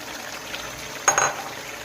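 Peas go into minced meat cooking in desi ghee in a pan, giving a short, bright sizzle and clatter partway through over a low kitchen background.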